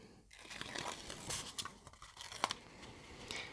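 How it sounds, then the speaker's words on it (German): Tweezers peel the backing layer off double-sided tape while crafting a school cone: close, dry tearing and crinkling rasps in short irregular bursts, with no talk. "Jetzt nehme ich mit einer Pinzette die Trägerschicht von dem doppelseitigen Klebeband runter."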